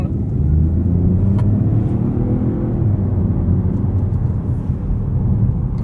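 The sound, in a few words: tyre road noise inside a Peugeot 408 while driving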